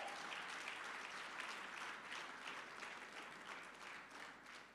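Steady applause from an audience at an African diaspora union gathering, a continuous wash of clapping heard at a distance and fading slightly toward the end.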